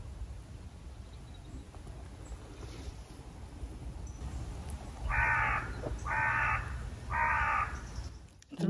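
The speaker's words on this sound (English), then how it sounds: "Three crows. Did you hear that?" Three harsh crow caws ring out in an even rhythm, fairly close, over a steady low wash of wind or water.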